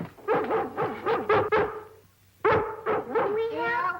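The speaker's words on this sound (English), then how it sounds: "I wish you'd try and stop that dog from barking" A dog barks in quick repeated bursts, loud and close, with a short pause before another run of barks and yelps, heard in a domestic scene.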